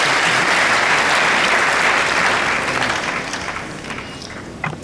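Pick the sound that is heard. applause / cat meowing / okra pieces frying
applause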